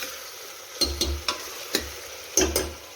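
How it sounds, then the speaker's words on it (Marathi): Onion frying in oil with salt in a pan for mutton masala, a soft steady sizzle broken by five or six sharp scraping stirs and spoon taps, close and without talk. "आणि 5 ते 6 मिनिट हा कांदा फ्राय करून घेऊ।"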